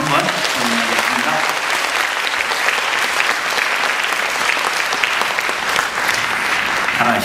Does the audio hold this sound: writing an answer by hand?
no